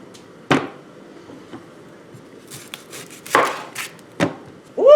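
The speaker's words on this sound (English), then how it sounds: "In this scene, I cut up 3 additional onions and got them diced." Knife dicing onions for a pork loin freezer meal prep, with several sharp separate chops on a cutting board at irregular intervals, close and fairly loud against a quiet room.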